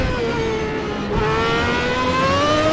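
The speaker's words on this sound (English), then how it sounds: "The rev limiter." A 1991 Formula 1 car engine in a racing game, holding a loud, steady high-pitched whine that climbs gradually and sits near the rev limiter, without any voices.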